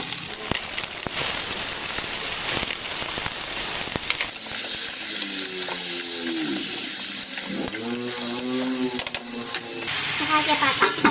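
Chicken sizzles loudly in a pan with garlic and onion, a steady bright frying hiss filling the whole clip, with occasional scraping stirs and some background talk mixed in.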